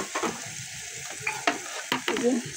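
Flat beans and potatoes fry in a pan while being stirred, with a soft sizzle under several sharp scrapes and knocks of the spoon against the pan.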